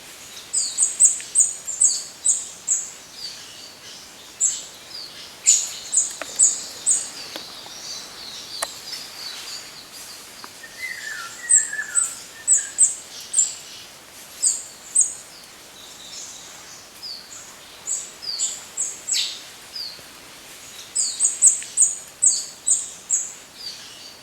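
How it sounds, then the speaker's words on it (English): Birds call from trees on the east coast of New Caledonia, repeated bright chirping phrases in bursts with short gaps, fairly close and clear against a quiet background. "these beautiful birds happily darting around from tree to tree"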